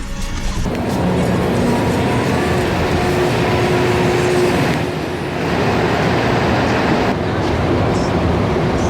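A Montreal metro train rumbles loudly and continuously, with a faint whistling tone as it runs, a brief dip in the roar midway, then the rolling noise resumes.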